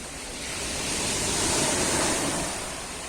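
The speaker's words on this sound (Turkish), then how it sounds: "Dalgalar şöyle ayağımın dibine kadar geliyor" Waves wash up onto the shore at the seaside in Gemlik, Turkey, making a continuous broadband rush that swells louder in the middle and then eases off, close by and with no voices.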